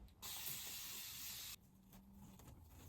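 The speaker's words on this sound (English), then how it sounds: "So I'm going to take my spray bottle" A spray bottle gives one long hissing spritz up close onto curly hair being styled, lasting over a second, then quiet handling sounds follow.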